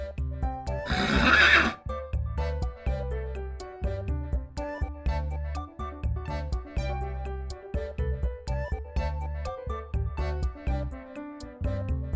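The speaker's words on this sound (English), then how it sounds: "It's the magnificent horse!" A horse neighs loudly and briefly near the start, a bright shrill whinny, then gives way to a bouncy children's tune with plucked, rhythmic notes that carries on to the end.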